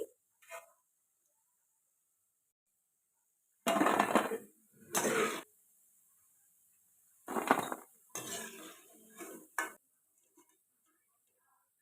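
Fried gathiya being lifted out of a frying pan with kitchen utensils, a few separate bursts of metallic scraping and clinking, close and sharp, with near-silence in between.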